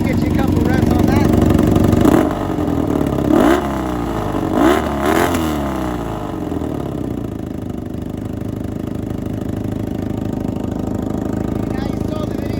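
Honda Magna motorcycle engine, 1982 first generation and 1995 third generation, one on straight pipes: a steady running engine with a couple of sharp revs early on, then settling to idle, close and loud.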